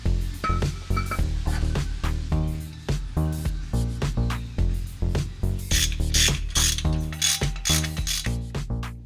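A ratchet wrench clicks in fast repeated bursts while tightening the bolts on a replacement flywheel, the close, loud ratcheting continuing steadily throughout.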